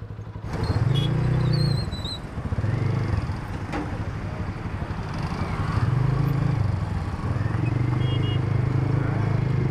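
A KPR motorcycle rides through Dhaka traffic, its engine a steady close drone throughout with brief squeaks and horn-like tones, and faint talk underneath.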